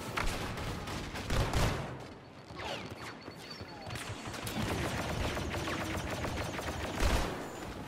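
A grenade blast and gunfire from a Star Wars Battlefront II battle: continuous bursts of distant-sounding automatic fire with sharp impacts and a couple of heavier thuds, steady throughout with no clear talk.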